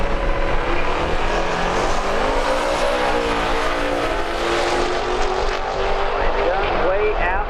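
A Hellcat and an eBay-turbo drag car roar down a drag strip together, a loud sustained engine blare with shifting pitch, with an announcer talking over it throughout.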